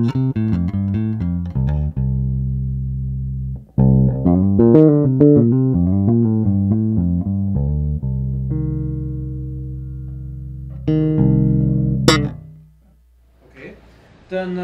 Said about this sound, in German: Dann haben wir hier eine passive Höhenwende und die zieht sozusagen die Höhen raus, wenn nötig.